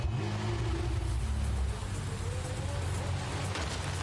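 A car engine driving in the open-world game Neverness to Everness, a continuous loud rumbling drone with rising revs that shifts pitch midway and runs steadily throughout.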